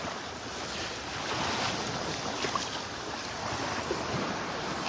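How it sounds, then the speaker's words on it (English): Ocean waves breaking on a sandbar at a North Naples, Florida beach on an incoming tide, a continuous broad wash of surf with gentle swells in loudness, mixed with wind buffeting the microphone. "The tide coming in, the waves breaking on the sandbar out here."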